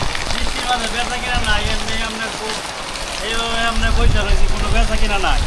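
Rain patters steadily over a large open-air fish market in Hosenpur, a continuous hiss beneath nearby voices of people talking throughout.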